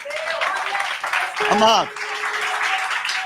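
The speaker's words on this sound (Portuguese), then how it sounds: "Aplauda Jesus," A church congregation applauds during a sermon, a continuous wash of clapping from many people beneath a preacher's voice, with one word clearly spoken over the clapping partway through.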